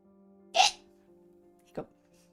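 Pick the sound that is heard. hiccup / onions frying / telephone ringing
hiccup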